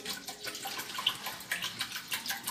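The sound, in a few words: pouring 1.5 litres of water onto rinsed rice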